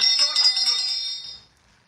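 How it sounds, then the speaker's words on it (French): A handheld bell rings with a bright, jangling peal of several quick strokes lasting about a second and a half before it fades out. "je sors la cloche, je sonne comme ça"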